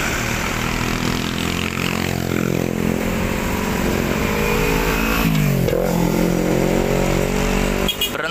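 An intercity bus pulls away from a short stop, its loud engine droning and rising in pitch as it accelerates, close and continuous throughout with no speech.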